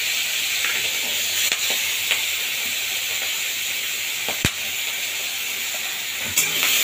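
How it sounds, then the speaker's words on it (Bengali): Small shrimp fry in hot oil in a kadai, giving a steady, fairly loud sizzling hiss throughout with a few faint clicks and knocks from the pan. "এবার এই তেলের মধ্যে আমি চিংড়ি মাছটা ভেজে নেব।"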